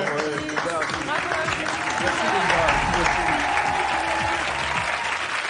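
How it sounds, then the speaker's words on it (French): A studio audience at a stage hypnosis show applauds in a steady, dense wash of clapping that lasts throughout, with voices talking over it. "on l'applaudit encore une fois"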